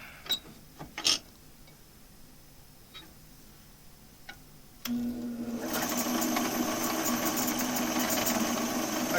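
A wood lathe running at 1,000 RPM starts midway, rising from a quiet room with a few clicks and knocks into a steady loud whirring hum that keeps building slightly toward the end.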